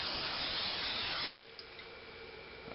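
Pam cooking spray hisses steadily from an aerosol can into a casserole dish for just over a second, close and clear, then cuts off into quiet kitchen room tone.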